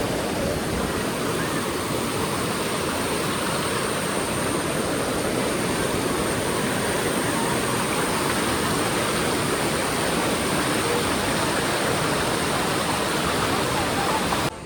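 The Bavali river roars continuously and loudly, a dense steady churn of fast-flowing water with no pauses.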